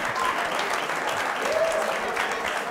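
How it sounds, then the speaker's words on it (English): A studio audience applauds steadily throughout, a dense, even wash of clapping from many hands with no pauses, fairly loud and close. "A round of applause for them."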